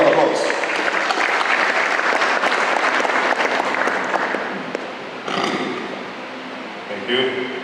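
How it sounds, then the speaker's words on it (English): Audience applauding Mr. David Gibbs at a formal event at the University of Ghana, loud clapping that fades after about five seconds into scattered claps, with a voice beginning to talk near the end. "A big round of applause."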